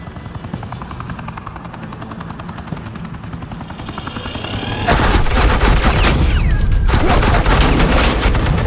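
Helicopter rotor drone from the Batman: The Enemy Within video game gives way about halfway through to loud, sustained suppressing gunfire, dense overlapping automatic bursts that continue without pause to the end.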